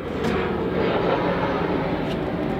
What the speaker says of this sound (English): That dang jet.